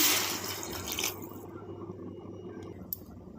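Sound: water poured into curry

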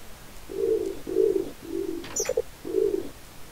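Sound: pigeon cooing in the video game Minecraft

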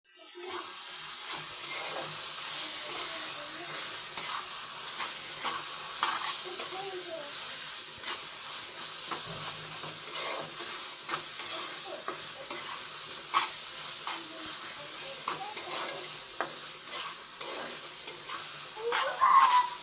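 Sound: red amaranth greens frying with tempering spices, stirred

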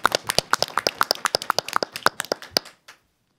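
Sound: audience applause

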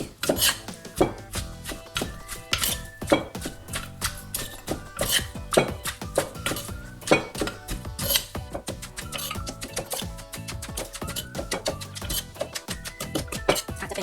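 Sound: pounding Lao papaya salad ingredients in a mortar

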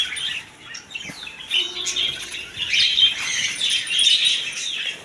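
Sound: budgerigars and other caged birds squawking in a bird shop

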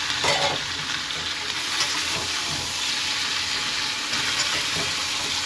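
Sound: stirring vegetables frying in oil with tomato and green chilies

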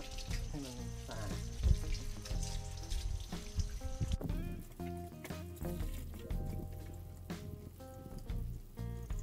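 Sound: washing leaves under running water

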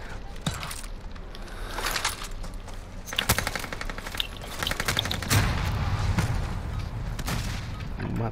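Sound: rifle and machine gun fire in Call of Duty: Modern Warfare video game

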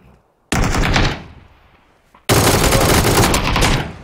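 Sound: gunfire in PUBG (Battlegrounds) video game

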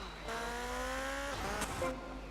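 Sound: motorcycle engine in video game GTA Vice City

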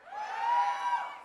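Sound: audience cheering

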